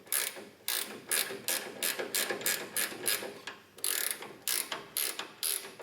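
Quick bursts of ratchet clicking as a bolt is tightened, loud and close, in repeated strokes with short pauses between, with no talk.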